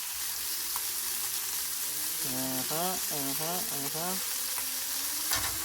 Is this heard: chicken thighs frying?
yes